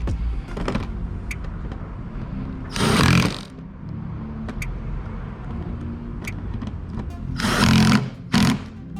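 An impact tool tightens the front bumper bolts on a 2009-2017 Freightliner Cascadia truck in short loud bursts, one near three seconds and a pair near eight, over a low rumbling background.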